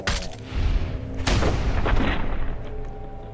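Gunfire in Fallout 4, with a sharp booming shot near the start of a loud, busy stretch of in-game combat noise that stays dense throughout.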